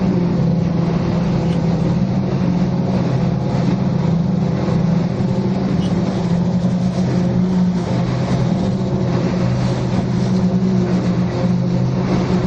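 A 1,000 horsepower cigarette powerboat holds a steady, heavy low roar throughout, loud and continuous without pauses, out on open water during a Sydney yacht race.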